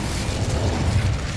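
Casting the Incendio fire spell in the video game Hogwarts Legacy gives a brief, loud, rumbling burst of flame with a deep whooshing roar that holds for about a second.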